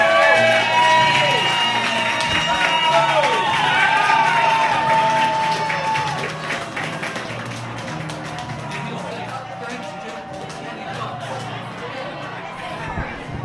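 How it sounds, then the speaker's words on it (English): A large outdoor crowd at a presidential inauguration cheers and chatters as President-elect Donald Trump emerges onto a balcony. The sustained roar is loud at first, then eases a little, with voices mixed in. "Lots of enthusiasm from the crowd as he emerges"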